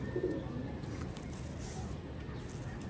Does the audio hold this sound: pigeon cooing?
yes